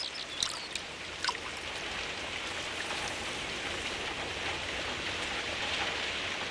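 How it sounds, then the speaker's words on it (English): Steady rain falls on a fishing trip, with a dense continuous patter of drops on surfaces and water, a few sharper drips and knocks early on, loud and close with no talking. "especially when the rain returns"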